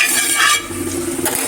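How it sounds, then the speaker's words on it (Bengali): Fish pieces rubbed with salt and turmeric frying in hot oil in a home kitchen pan, giving a close, loud, steady sizzle and crackle with no talking. "এখন আমি মাছ ভাজা বসিয়ে দিব"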